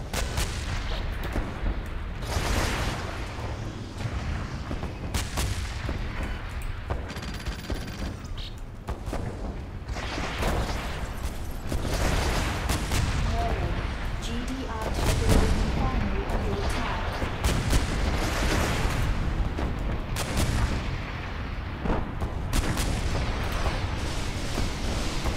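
Shooting and explosions in Renegade X, a continuous dense stretch of gunfire bursts and heavy booms layered over one another, with someone talking intermittently underneath.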